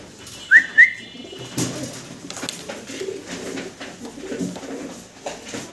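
Pigeons at a pigeon farm give two short, sharp calls near the start, followed by softer, scattered cooing and rustling against a busy background.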